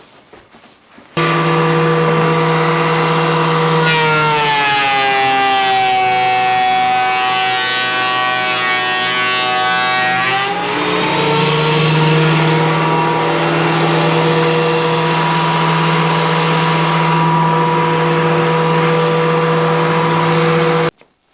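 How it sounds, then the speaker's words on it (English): A thickness planer feeds wooden boards through its cutter head, a loud sustained whine with an emphatic droning tone that shifts pitch as a board passes, then settles back to the motor's steady roar. "So I'm going to put them through the planer and get rid of the unevenness, what little there is."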